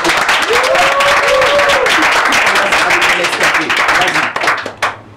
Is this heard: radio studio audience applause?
yes